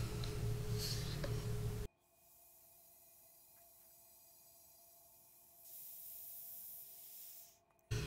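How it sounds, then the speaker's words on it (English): Air hisses steadily as a vacuum chamber is vented after soaking Banksia pods in stabilizing resin for a woodturning bowl, a quiet continuous rush that grows louder toward the end, following an abrupt cut from louder noise. "what I'm going to do now is release the vacuum"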